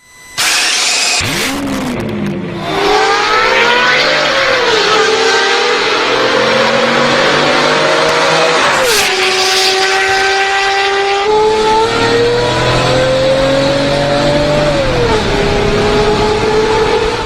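A straight-piped 5.8-liter naturally aspirated Mercedes V12 revs hard and repeatedly, loud and high-pitched, rising and falling in pitch with a raw, rasping exhaust roar up close.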